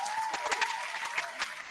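Applause sound effect played back through a computer during an ICT lesson, a brief thin burst of scattered clapping with a faint tone running beneath it, quiet and somewhat distant.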